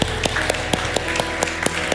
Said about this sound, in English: Let's give God a clap offering of praise.